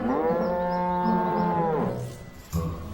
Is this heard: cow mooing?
yes